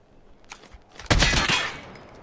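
Video game gunfire striking bulletproof glass, a sudden loud metallic burst of impacts after a quieter start, ringing and rattling for about a second before fading.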